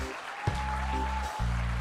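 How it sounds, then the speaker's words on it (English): Steady applause from an audience at a women's event fills the space, a continuous wash of clapping with a low hum underneath and no speech over it. "Let's have a big round of applause"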